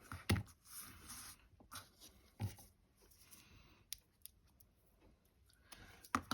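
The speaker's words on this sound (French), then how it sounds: "Et je coupe l'excédent." Scissors snip away excess ribbon on a desk calendar craft, a few quiet, sharp cuts spaced irregularly across a soft, near-silent background.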